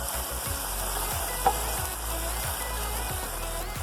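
Caramel being stirred in a pan on the stove, a soft steady bubbling sizzle with a regular pulse of spoon strokes, plus one sharp light tap partway through.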